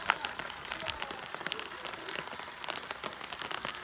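Steady rain in Sargodha, Punjab patters and splashes on a hard surface, a dense crackle of drops throughout with no talking.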